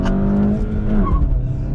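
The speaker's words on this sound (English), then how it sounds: "Chirping tire's a happy tire." A 2021 VW Golf GTI with a 6-speed manual accelerates hard with a loud engine roar, and a short tire chirp cuts through briefly.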